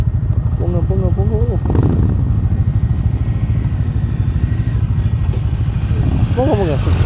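A Harley-Davidson motorcycle's exhaust note rumbles steadily and loudly up close throughout, a deep pulsing throb with occasional clatter, while people talk over it at moments.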